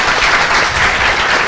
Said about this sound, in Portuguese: Aí, palmas aí, ó, Guilherme.